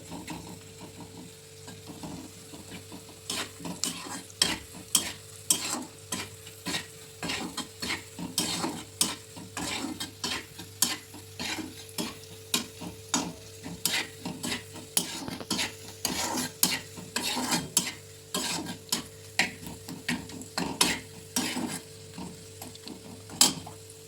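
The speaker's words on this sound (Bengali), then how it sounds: "লবণ দিয়ে একটু নেড়ে নেবো যতক্ষণ লালচে ভাব না হচ্ছে ততক্ষণ পর্যন্ত নাড়বো লো টু মিডিয়াম করে।" A spatula scrapes and stirs rhythmically through food frying with salt in a pan over low to medium heat, quick repeated scraping strokes over a quiet background sizzle, with no talking.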